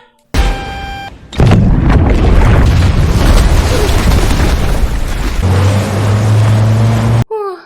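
After a brief tone, a loud booming film explosion erupts and rumbles on with roaring debris, fading into a lower mechanical hum before cutting off.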